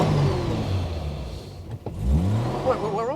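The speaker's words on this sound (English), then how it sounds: "the engine sounds good" Engine of a Humber Super Snipe revving, a mid-pitched rising and falling roar close by with a couple of sharp throttle blips, partly mixed with voices.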